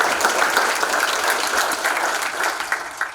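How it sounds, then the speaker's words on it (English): Conference audience at Frontmania 2022 applauding during a web development talk, a full, continuous wash of clapping that holds steady and then begins to thin out. "Thank you for clapping"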